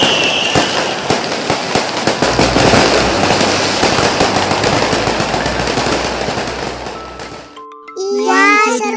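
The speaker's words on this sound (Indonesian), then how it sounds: "Wah, petasan." Firecrackers exploding during a festive family gathering, a rapid close barrage of loud cracking pops running for several seconds, then stopping abruptly as a voice speaks.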